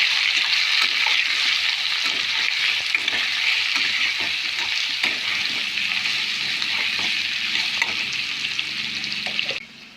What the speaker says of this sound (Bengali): দিয়ে আমরা ভালো করে নাড়াচাড়া করে লাল লাল করে ভেজে নেব